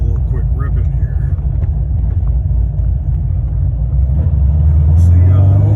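A C6 Corvette with a heads/cam LS3 V8 revs up from a loud, lumpy cruise, the deep engine note swelling louder and rougher toward the end as it accelerates.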